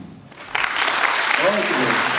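Conference audience bursting into applause, starting abruptly after a quiet moment and holding as a dense, steady wash of clapping with some voices mixed in.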